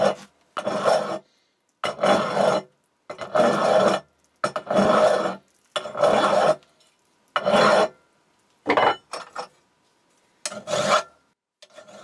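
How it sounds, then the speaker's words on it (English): Paint is scraped off an old Heuer vise with a spatula and steel wool, making rhythmic, gritty rasping strokes of about a second each, repeated in a steady back-and-forth pattern with short pauses between them. "I'm just using a spatula and some steel wool to scrape off any paint"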